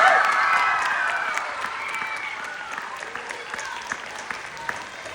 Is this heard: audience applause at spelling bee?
yes